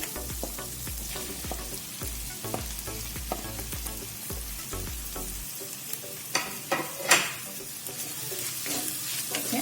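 Grated bottle gourd frying in a pan with chilli and garlic, with dense crackling sizzle and stirring scrapes at first, then settling into a softer sizzle punctuated by a few sharp clatters.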